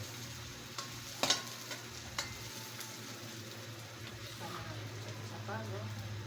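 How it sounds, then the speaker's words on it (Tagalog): Ginger being sautéed in a pan, with a steady low sizzle running throughout and occasional stirring clinks, while voices talk intermittently over the cooking. "ginisa na rin ang luya"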